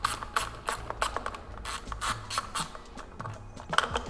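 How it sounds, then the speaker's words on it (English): A T30 Torx driver ratchets steadily while unscrewing a bolt on an Aprilia RSV4 motorcycle's tail section, giving a close, repeated series of sharp clicking pawl bursts with no talking. "I would aim for the T30 and unscrew it"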